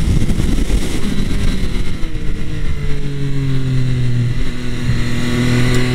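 A Triumph Speed Triple 1200 RS motorcycle with its stock exhaust pulls hard under acceleration, the loud steady engine note climbing in pitch through the gears, heard up close from the rider over rushing wind, with no talking.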